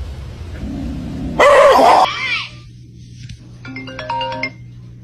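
A dog gives a short loud bark-like yelp in the middle, followed by a quieter tail and an electronic tone sequence near the end.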